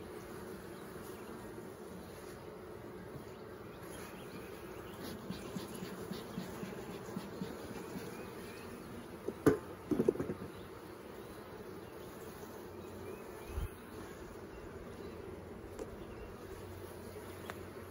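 Bees hum in a soft, steady drone around comb during a hive check, with a few brief handling knocks and clicks in the middle.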